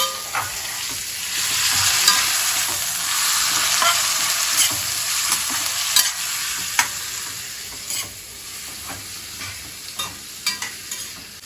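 Two medium tomatoes, pureed, fry with sautéed onion and garlic for a curry-leaf kuzhambu, sizzling loudly and continuously under repeated stirring scrapes that taper toward the end.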